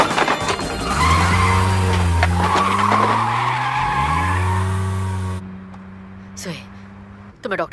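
A car skids in an action movie scene, a loud sustained tire squeal with engine roar that swells and then cuts off, followed by brief scattered sounds.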